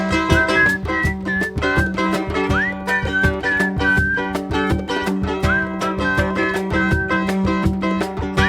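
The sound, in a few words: whistling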